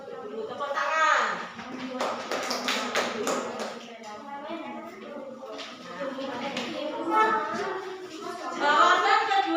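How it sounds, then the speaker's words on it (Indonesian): Classroom pupils clapping their hands together, light taps scattered under children and a teacher talking loudly over them. "Tepuk tangan."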